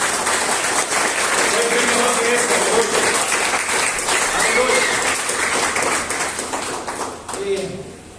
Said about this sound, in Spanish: le damos un fuerte aplauso a todos aquellos que vinieron